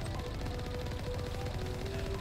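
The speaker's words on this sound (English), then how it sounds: "God, the Mako gun is so annoying." The Mako vehicle's cannon in Mass Effect firing in rapid repeated bursts, dense and continuous under engine rumble and game noise, loud and close with no voices.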